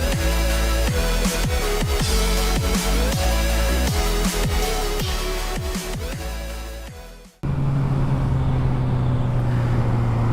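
A modified Suzuki GSXR 750 motorcycle revs repeatedly in quick rising-and-falling bursts, loud and close, then cuts off abruptly and gives way to a steady, lower engine hum.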